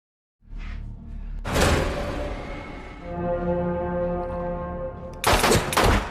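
Loud gunshots crack out, first a single blast, then a sustained booming burst, and two sharp shots close together at the end.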